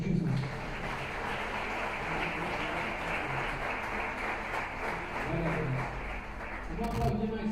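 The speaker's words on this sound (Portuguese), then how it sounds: "Você pode aplaudir o Senhor Jesus." A church congregation applauds steadily throughout, a dense wash of hand claps with voices mixed in over the crowd, swelling slightly near the end.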